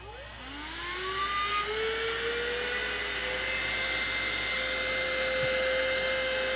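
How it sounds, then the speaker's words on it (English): A vacuum cleaner motor whines up to speed and then holds a loud, steady high-pitched whir and rushing airflow while cleaning a Yamaha MG10/2 audio mixer. "So I'm just gonna go around, vacuum a little bit. It's gonna get a little bit loud."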